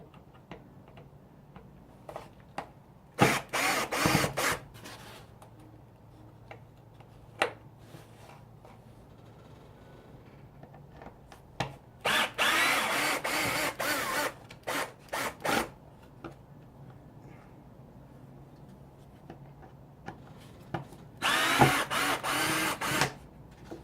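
Power drill removing four bolts from the air filter housing of an Equinox, Terrain or SRX, heard as several short bursts of whirring spread apart, with faint clicks and handling noise in the quiet gaps between.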